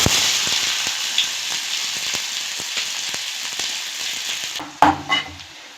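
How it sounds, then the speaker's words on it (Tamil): Finely chopped onions sizzle and crackle loudly in hot oil with scattered pops, then a brief utensil clatter near the end. "இப்போ எண்ணெய் காஞ்சதும் நம்ம பொடியை நறுக்கி வச்சுருந்த வெங்காயத்தை சேர்த்துக்கலாம்"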